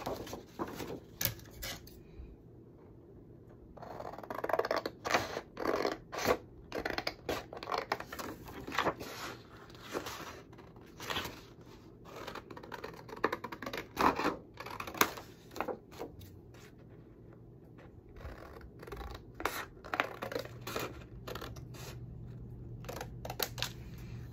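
Scissors snip through journal paper pages in a run of close, crisp cuts that come in irregular bursts with short pauses, quiet throughout.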